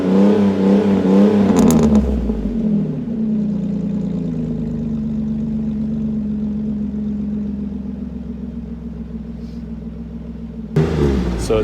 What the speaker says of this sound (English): put a MagnaFlow exhaust on the old G6 here